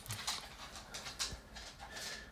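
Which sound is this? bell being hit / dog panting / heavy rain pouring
dog panting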